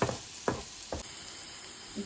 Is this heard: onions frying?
yes